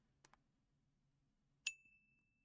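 A phone notification rings out as a single sharp, loud ding with a long ringing tail, preceded by two faint soft clicks in a quiet room.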